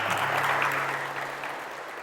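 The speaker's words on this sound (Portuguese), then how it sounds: "Vamos dar uma salva de palmas para Jesus." Church congregation applauding at a Catholic preaching mission, a steady wash of clapping from many hands that slowly eases off over two seconds, with a low hum underneath.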